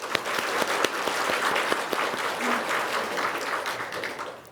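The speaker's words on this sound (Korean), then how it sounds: "우리 서로를 위해서 우리 격려와 축복의 박수 하겠습니다." A church congregation at a Wednesday Bible study claps together in encouragement, a dense, steady wash of many hands sustained throughout at moderate distance, with no talking over it.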